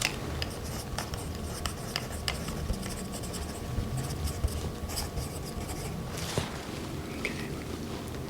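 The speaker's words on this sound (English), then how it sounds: "let me make a note." Pen writing a note during a close-miked ASMR cranial nerve exam: steady scratching and rubbing strokes with small taps, quiet and intimate, alone without speech.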